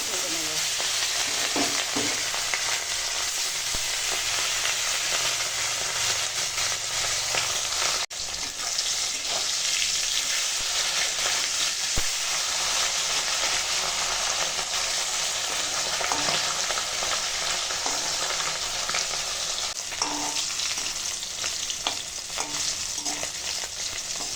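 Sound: hilsa fish frying in oil

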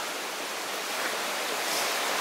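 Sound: creek water flowing near an old mine

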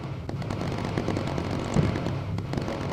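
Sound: missile exploding in Bomber Crew video game

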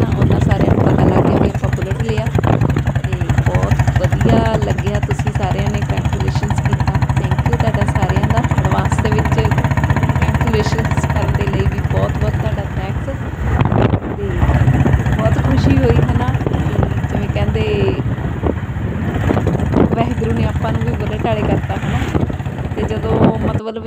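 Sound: Bullet motorcycle riding

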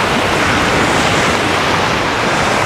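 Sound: sea waves on beach at Anapa

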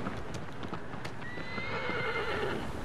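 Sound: horse neighing after being kicked, Shadow of the Colossus video game

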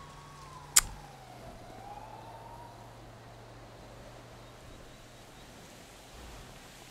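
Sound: police siren in a video game

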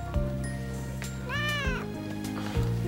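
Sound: cat meowing

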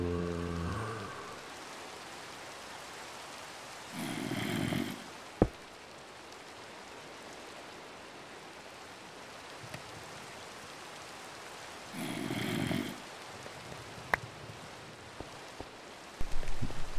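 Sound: rain in Minecraft video game

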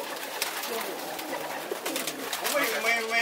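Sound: racing pigeons cooing

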